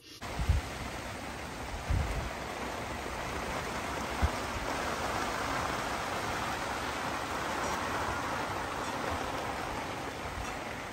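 Steady rain falls throughout, a dense even hiss with a few soft thumps early on.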